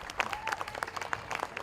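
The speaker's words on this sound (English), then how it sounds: "Give her a round of applause." Brief, fairly faint scattered clapping from a small crowd at a county fair princess contest, uneven and light.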